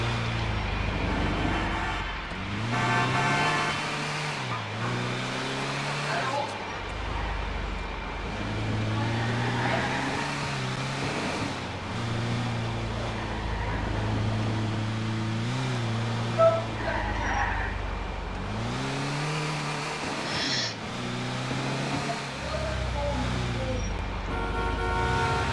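Car engine revving and droning steadily in Grand Theft Auto IV, with shifting pitch as the vehicle accelerates and slows, a horn toot and traffic noise mixed in, loud and continuous throughout.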